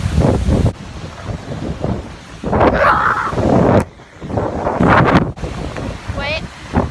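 Strong wind buffets the microphone beside huge waves on Lake Superior, a loud, continuous roar with surges and brief lulls throughout.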